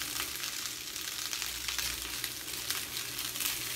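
Meat sizzling in a stir-fry pan, a steady, close, crackling fry that stays even for the few seconds, with no talking.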